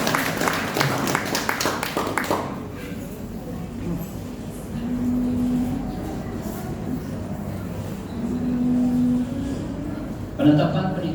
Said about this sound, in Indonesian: Ya, beri tepukan.